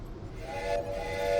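A train rolls along in the game Voidtrain with a low rumble and steady whistle-like tones that grow slightly louder over a brief stretch, and no voices.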